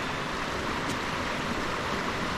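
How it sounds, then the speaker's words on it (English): Loud, steady rushing water near a mountain campsite among tall trees, a dense continuous roar that fills the whole clip with no voices. "being near water, sleeping near water, whole different story. It's extremely loud."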